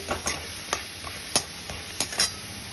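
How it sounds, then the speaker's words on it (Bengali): Small cut potato pieces frying in oil in a wok, a steady close sizzle punctuated by several sharp scrapes and clinks of a spatula stirring at uneven intervals, with no talking. "কড়াইতে কিছুটা তেল দিয়ে আমি বেশ ছোট ছোট করে কয়েকটা আলু কেটে আমি এখানে ভেজে নিচ্ছি"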